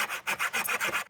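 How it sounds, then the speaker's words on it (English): A handsaw cutting through a wooden stick in quick rhythmic strokes, about six rasping push-pull passes in close succession, close and fairly loud with no voices. "This is not the most efficient way to saw a stick."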